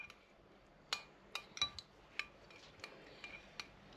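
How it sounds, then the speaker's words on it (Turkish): A spoon stirs yogurt into milk, giving faint, scattered clinks against the bowl. The strikes come at an uneven pace in a quiet room. "Bunu böyle 3 kaşık yoğurduna, yani sütüne yoğurdu karıştırıyor."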